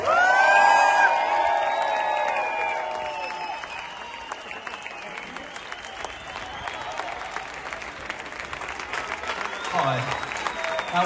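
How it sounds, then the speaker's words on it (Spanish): Sustained applause from an audience of children and families at a school concert carries on for the full stretch, thick and even, with cheering, shouts from children and a few whoops rising through it. "He dicho el aplauso más largo"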